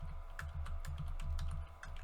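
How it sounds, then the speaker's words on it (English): A few seconds of quick, steady keystrokes on a computer keyboard, close and fairly quiet, with no talking. "let me type it into search"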